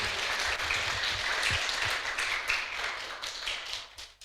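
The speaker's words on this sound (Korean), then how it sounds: "우리 옆 사람을 축복하면서 한번 박수 한번 할까요?" A church congregation applauds together during an Easter Sunday service, a dense, steady patter of many hands clapping at moderate distance that fades out toward the end.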